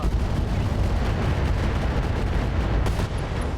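A Madcat Mark II mech opens fire on an Archer mech in RogueTech, a steady, heavy roar of weapon fire and rumbling blasts that holds loud and unbroken, with a sharper crack near the end.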